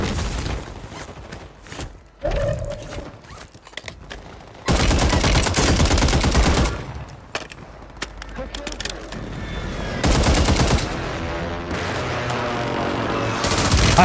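Video game gunfire on a console shooter, rapid automatic bursts and heavy booming shots coming in loud clusters, with a player talking between and over them.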